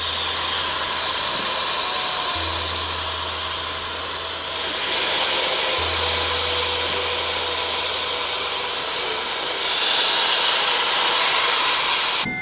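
Air fryer running with the lid shut while chicken breast kebabs cook, a steady fan whoosh and hiss holding level throughout, with a low hum stepping on and off underneath.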